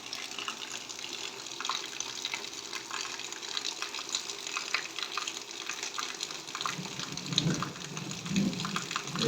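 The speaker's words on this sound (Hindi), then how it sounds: "देखो बरसात" Steady rain falls in Rajasthan, a dense, even hiss of water with scattered patters and drips, moderately quiet and constant throughout, with no voices.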